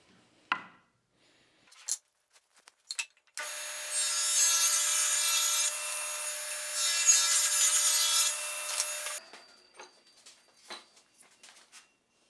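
A saw cuts two wooden pieces for crosscut sled runners, a sustained bright whining rasp lasting about six seconds, framed by scattered clicks and handling knocks before and after.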